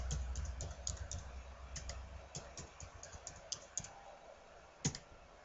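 Irregular light clicks of a computer keyboard as a password is typed, close and quiet, with a few sharper keystrokes standing out near the end.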